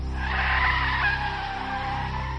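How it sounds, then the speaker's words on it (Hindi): A car braking hard and skidding to a stop, a loud, sustained tyre screech over a low engine rumble that fades slightly toward the end. "उन्होंने जोर से ब्रेक लगाया"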